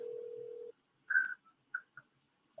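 A telephone call is being placed: a steady tone cuts off, then a few short, separate electronic beeps follow at uneven intervals in a quiet room, with no talking.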